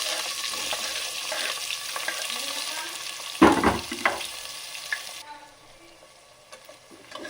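Onion goes into a pan for palak rice and fries with a steady close sizzle; a louder burst of crackling comes midway, then the sound drops away to quiet near the end, with no speech.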